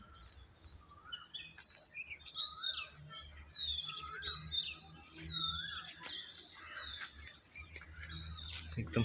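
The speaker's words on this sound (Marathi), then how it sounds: "पक्ष्यांचा आवाज बघा." Several birds chirp and whistle in quick, scattered bursts at dusk near Kadavai station in a Konkan village, the calls fairly faint and distant over a quiet rural background with a low hum.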